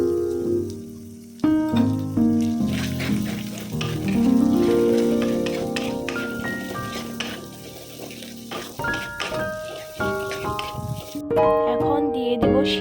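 Egg frying with vegetables for chowmein, a loud continuous sizzle with stirring scrapes and clatters, near and busy throughout, with some faint tonal sounds layered over it.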